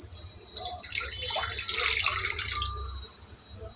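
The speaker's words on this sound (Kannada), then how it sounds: "ಒಂದು ಅರ್ಧ ಗ್ಲಾಸಷ್ಟು ನೀರು ಹಾಕೊಳ್ತಾ ಇದ್ದೀನಿ" Half a glass of water pours into a pot heating on a stove for boiling sherbet, a steady splashing stream lasting a couple of seconds over a low hum before it stops.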